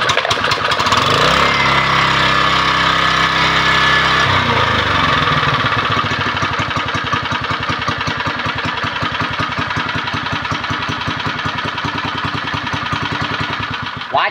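A used Japanese water pump engine runs steadily at a fast, even chug, loud and close, sounding like a pump motor idling, with no talking.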